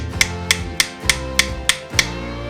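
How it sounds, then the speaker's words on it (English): Seven sharp metallic hammer strikes driving a cap into the axle of a Dana 30 free spin kit on a 1990 Jeep Wrangler YJ, at a steady pace, each ringing briefly over a low background hum, close by. "And you just want to hammer it through"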